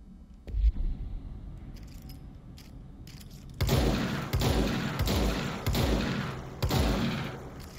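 Gunfire from a weapon with a fire-rate boost in the video game Control, coming in a few sharp repeated bursts after a quieter stretch with a single thump near the start.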